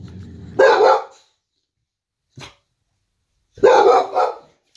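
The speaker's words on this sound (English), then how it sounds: "She didn't even know what she's barking at." Excited pet dogs give two loud, close barks about three seconds apart, with a short yip between them and some low rumbling before the first bark.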